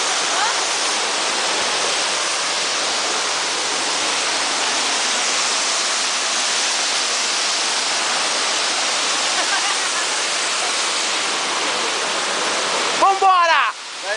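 A Brazilian waterfall (cachoeira) at Pouso da Cajaíba roars as a steady, loud, broadband rush throughout, with a voice breaking in briefly near the end.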